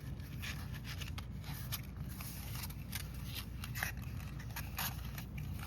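Scored paper creased and folded by hand on a shadow box punch board, a quiet continuous rustle of crisp crackles and scrapes, close up and without speech.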